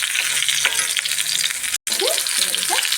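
Steady loud sizzling of stuffed beans frying in hot oil, continuous throughout with a brief dropout partway and faint clinks of utensils.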